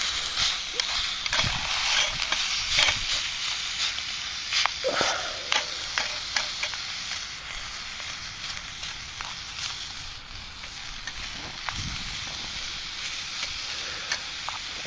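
Bacon sizzling in a pan outdoors for breakfast, a steady crackling hiss with scattered pops and occasional knocks, moderately close and continuous.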